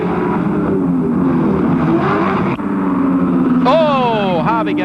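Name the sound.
Holden Commodore race cars driving up Mountain Straight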